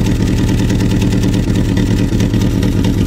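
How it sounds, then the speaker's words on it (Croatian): A car engine idles steadily in freezing winter weather through a worn-out exhaust, giving a close, loud, continuous rough chugging drone with no voices. "Vidi ovo, kako se čuje. A vidite taj auspuh mora mijenjati."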